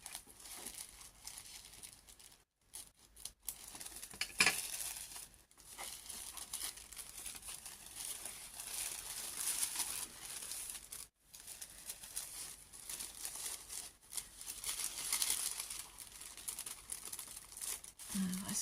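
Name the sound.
opening a small wrapped package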